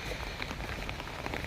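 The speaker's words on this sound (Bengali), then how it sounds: "সকালে বৃষ্টি দেখাচ্ছি আপনাদের।" Light morning drizzle following a heavy downpour falls in a continuous, even patter, a soft wash of rain heard briefly with no voices.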